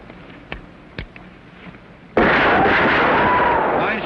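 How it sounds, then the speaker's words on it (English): Gunshots at target practice in a Western setting: a couple of faint thumps, then one loud, close blast that booms and rings out for nearly two seconds, alone with no speech. "Fine shooting."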